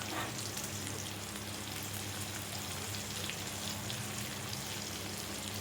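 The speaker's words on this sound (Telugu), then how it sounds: "తర్వాత అలా ఆయిల్లో వేసి మంచిగా డీప్ ఫ్రై చేసుకోవాలి." Chicken 65 pieces deep frying in hot oil, a dense, continuous crackling sizzle like heavy rain that holds steady and loud throughout, close up with no voices.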